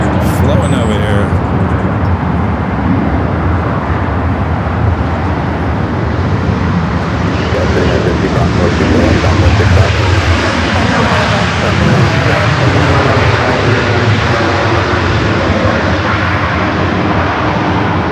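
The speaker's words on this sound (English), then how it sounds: "Frontier flight coming in from Savo" Frontier Airlines airliner landing at LAX, loud broadband engine roar close by, rising and shifting in pitch as it passes mid-clip, with a voice talking over the noise.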